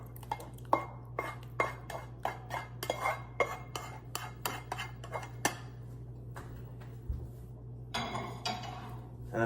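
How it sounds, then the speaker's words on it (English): Shrimp and sauce are combined with pasta in a bowl, a rapid series of close metallic clinks and scrapes of a utensil against the dish over a low steady hum. "I'm going to add it into the bowl and combine them"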